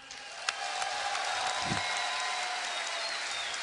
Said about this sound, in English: Give it up for the FruitDealer.